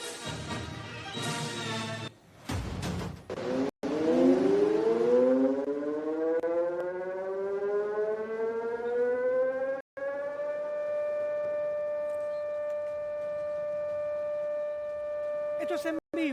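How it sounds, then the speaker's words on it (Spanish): Civil defense tsunami warning sirens wail across the coast of Chile, a long rising tone that climbs and then holds steady and loud for many seconds, with brief dropouts. "Suenan las sirenas en diferentes puntos de Chile."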